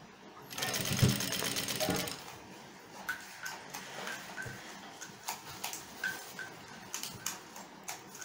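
Domestic sewing machine stitching a shirt side seam, a close rapid rattling run for about two seconds followed by scattered clicks and ticks as the fabric is handled, with a voice talking over it.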